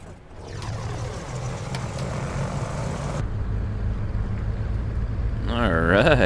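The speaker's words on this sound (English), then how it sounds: "let's see what it looks like starting up here." Twin engines of a Cessna Skymaster cranking and catching in a flight simulator game, a steady low propeller drone that builds in loudness over several seconds, with a voice briefly talking near the end.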